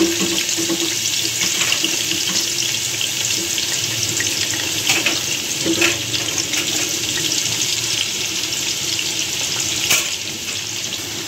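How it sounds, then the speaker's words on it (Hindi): Onions frying in hot oil in a pot while cooking chana biryani, a constant close sizzle and crackle with a few faint clinks over it. "मैंने इसमें प्याज डाल दिए और प्याज हमारी फ्राई हो रही है"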